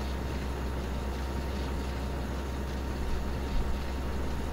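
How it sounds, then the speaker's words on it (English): Tractor engine in Farming Simulator 15 runs as a steady, even drone throughout, moderately loud with no other sounds over it. "A pretty darn nice tractor actually."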